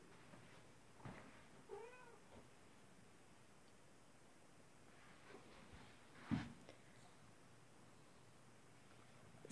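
A chunky female house cat meows softly indoors: a few short, faint mews in the opening seconds, then a louder single cry later, all over quiet room hiss.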